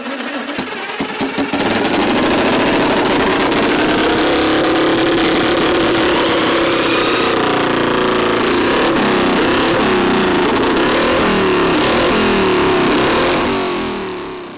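A legendary classic racing motorcycle, the kind ridden by Geoff Duke, John Surtees and Mike Hailwood, barks into life and holds a loud, raw, close exhaust rev for many seconds before easing off at the end; no voices.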